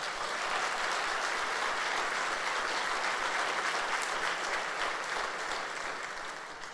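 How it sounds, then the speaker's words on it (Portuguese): Church congregation at a Sunday service breaking into sustained applause, a dense even wash of many hands clapping that holds steady and then begins to fade at the end. "Vamos dar um aplauso a Ele?"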